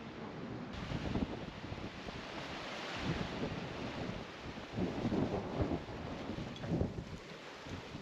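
Waves wash onto a beach in Aruba in gentle surges under steady wind rumble, with no voices.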